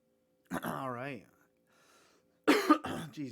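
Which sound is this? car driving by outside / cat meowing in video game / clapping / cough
cough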